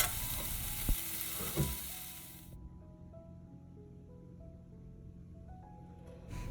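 Leafy greens (keerai) sauté in a pan for a Tamil poriyal. A close, loud sizzle with a few stirring knocks runs for about two and a half seconds, then cuts off abruptly, leaving only a quiet tonal hum.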